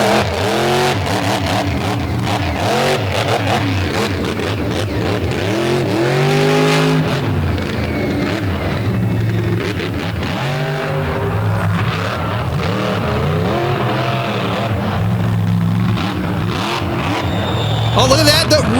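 A monster truck engine revs hard and roars through a run at a stadium championship final, loud and continuous with rising and falling pitch sweeps, while a commentator talks over it.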